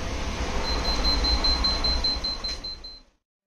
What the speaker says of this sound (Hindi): ये थोड़ी देर में मोबाइल शॉर्ट हो जाता है और इसमें बीप का साउंड आने लगता है डीसी मशीन में।